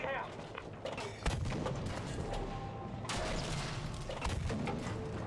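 Gunfire in the Battlefield video game, a World War II tank battle, with sharp heavy shots and artillery-like booms at irregular intervals over constant battle noise, moderately close and fairly quiet overall.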